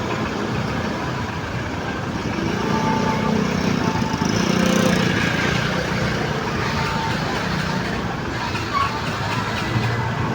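Road traffic in a Philippine town centre, a steady wash of idling and passing vehicle engines with a swell midway as something goes by close, with faint voices underneath.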